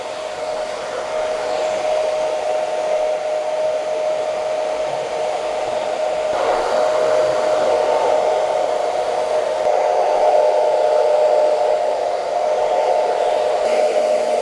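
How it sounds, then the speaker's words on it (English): A hair dryer on high speed and low heat dries pomade into a haircut at a barbershop, blowing a loud, steady close whine for the whole stretch with no talking. "So high speed, a low heat, and just dry that pomade in a bit more."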